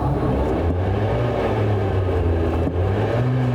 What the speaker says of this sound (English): I'm revving it with the throttle pedal.